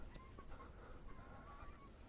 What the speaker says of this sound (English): Loads of free-range chickens.